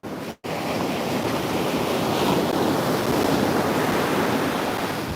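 Large ocean surf pounding a low-tide beach at Pine Knoll Shores ahead of a hurricane, a steady loud roar of breaking waves with wind buffeting the microphone after a brief dropout at the start.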